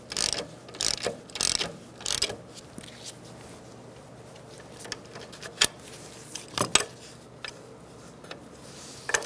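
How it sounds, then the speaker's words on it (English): A ratchet with a 13mm socket clicks in short bursts while tightening the top alternator bracket bolt on a 2000-2007 Ford Taurus 3.0L V6, with uneven pauses between the clicking strokes, close and fairly clear. "And tighten up the bracket bolt on the top"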